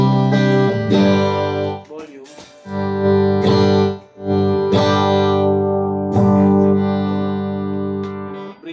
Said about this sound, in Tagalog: Mid tsaka bridge pickup. Ito po yung tunog.